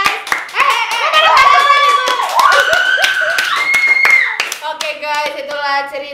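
A studio audience claps for several seconds over background music, with voices and chatter overlapping the applause.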